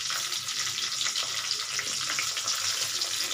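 Whole spices sizzle in hot oil for chicken kosha: bay leaves, dried red chillies, cinnamon and cardamom. The frying is a continuous, even crackle and hiss heard close up, with no talking.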